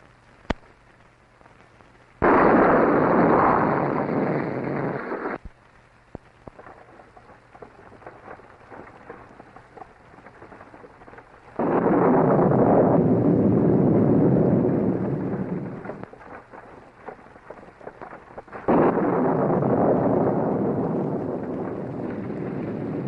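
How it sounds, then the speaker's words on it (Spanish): A heavy downpour with thunder comes in loud waves, roaring rain bursts alternating with quieter spells, three big surges over a dim, steady rain bed. "Está diluviando."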